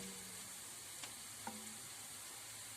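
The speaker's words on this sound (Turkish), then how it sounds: "Bu arada soğanlı harcım da kavrulmaya devam ediyor." Onion mixture sautéing in a pan for bulgur yogurt soup gives a faint, steady sizzle, with a couple of light stirring taps and no talking.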